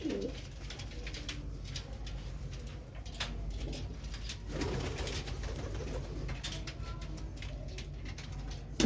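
Pigeons coo steadily in low, rolling calls, several birds overlapping close by over a constant background hum.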